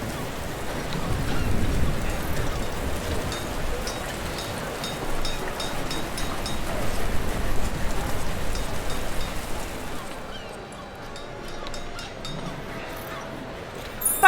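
Steady rain hisses over a city in the village-building game Patron, a continuous wash of drops that softens noticeably toward the end.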